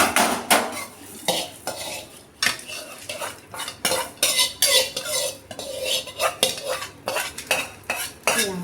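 Fried food scraped and lifted onto a plate with metal utensils: a steady run of close, sharp clinks and scrapes against cookware, irregular and busy, with no voices.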